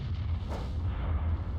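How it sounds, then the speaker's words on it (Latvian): A high-explosive artillery shell bursts as a single muffled, distant boom over a low, steady background rumble. "Tas bija fugas."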